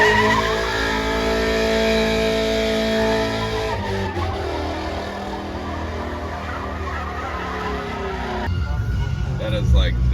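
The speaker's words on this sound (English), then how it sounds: "This thing's a CanAm Defender built by Super ATV." A Can-Am Defender side-by-side built by Super ATV drives at a sand sports show, its engine droning loud and close with tire scrub and shifting revs, the noise changing character partway through.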